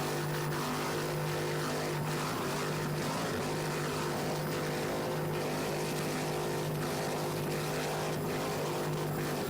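Offshore racing powerboat in the Islamorada Budweiser 100 race, its engines roaring in a steady, loud, unbroken drone.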